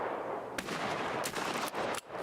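A .357 revolver fires in Escape from Tarkov, giving several loud, close shots a fraction of a second apart, each a sharp crack with a short booming tail, all over a dense background rumble.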